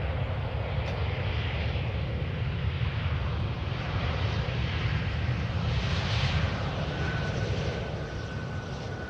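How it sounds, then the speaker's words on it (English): An Embraer 190 airliner lands at Amsterdam Schiphol, its engines giving a continuous broad roar that holds steady and loud throughout, with no voices over it. "This Embraer 190 is arriving from Glasgow."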